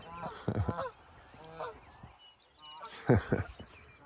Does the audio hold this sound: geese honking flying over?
yes